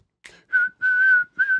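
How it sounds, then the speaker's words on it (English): A shrill whistle sounds in short, then long, then short bursts, with a brief puff of breath before it, loud and close with no speech. "blow the whistle"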